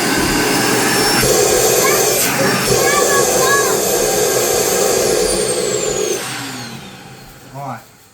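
A Henry vacuum cleaner runs loudly with a steady high whine and airy roar, holding for several seconds before winding down near the end as a voice briefly breaks in.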